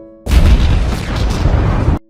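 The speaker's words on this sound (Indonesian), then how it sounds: "Tak lama kemudian bom itu pun meledak dan membuat suara ledakan yang sangat besar." A bomb explodes in the animated film Rio 2: one loud, close, roaring blast lasting nearly two seconds, with no voices over it.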